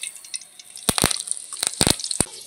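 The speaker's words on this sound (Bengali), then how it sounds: "কারি পাতা কিন্তু ভীষণ ফাটে। এই কারি পাতা কিন্তু খুব সাবধানে এভাবে ভাজতে হবে আস্তে আস্তে।" Curry leaves fry in hot oil, giving several sharp crackling bursts and spits in quick irregular succession against a quiet background.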